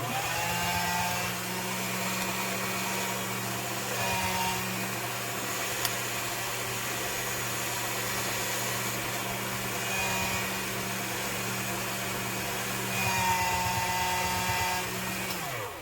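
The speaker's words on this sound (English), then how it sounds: "Let me just run this through my pasta machine so I can show you." Polymer clay runs through a pasta machine in a steady, even mechanical drone with a constant hum that holds for about fifteen seconds before stopping, with no voices.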